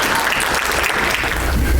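Applause from an audience at a motivational speaking event, a dense, steady wash of many hands clapping together throughout, loud and close with no voices over it.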